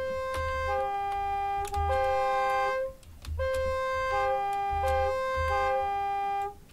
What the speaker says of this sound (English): We now have a siren.